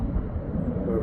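A Ryanair airliner takes off at Stansted Airport, its engines a steady, loud low roar throughout the short stretch.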